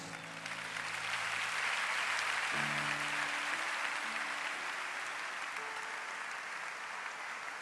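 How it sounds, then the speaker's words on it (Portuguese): Steady applause from a church congregation fills the whole stretch, with faint tonal notes from an instrument underneath. "Pode aplaudir ao Senhor."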